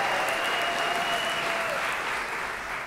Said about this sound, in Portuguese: Uma salva de palmas pra Larissa também, senhoras e senhores.